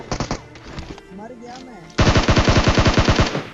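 Gunfire from a mobile battle royale video game: short, rapid automatic bursts at first, a brief lull, then a loud sustained stream of fast shots.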